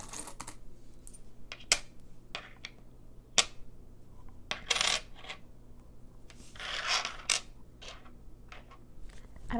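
Coins handled on a table during an ASMR session, sharp clinks and rattles with soft rubbing in between, scattered irregularly at close range.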